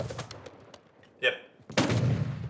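Gunfire during a squad battle royale match: a few quick cracking shots, then a sharp report and a louder sustained burst of fire up close, with a voice talking faintly underneath.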